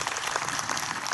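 Church congregation at a Korean mission center opening service clapping together, a dense close burst of applause with no speech.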